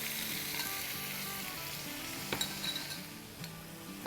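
Spice liquid hisses into fried onions and chicken in a pan for a Schezwan tandoori chicken dish, with a steady loud sizzle, stirring scrapes and a few light clinks of a utensil against the pan.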